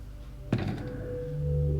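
A Minecraft ender chest opens with a single soft thunk, followed by a low, sustained hum that lingers.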